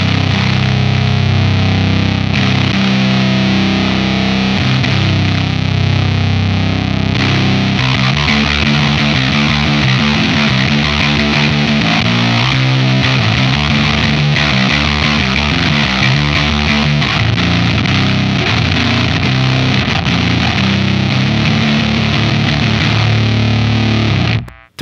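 Electric guitar played through a Lantern Manufacturing Sycamore pedal with the treble turned up, giving loud, dense distorted chords and riffs that run steadily for about twenty-five seconds with no talking.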